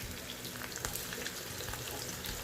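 Cumin, mustard seeds and chili sizzle in hot oil in a kadai, a dense, steady crackling fry with small pops throughout, close and moderately loud.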